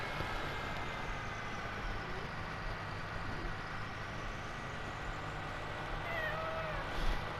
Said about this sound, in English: Noisy pussycat.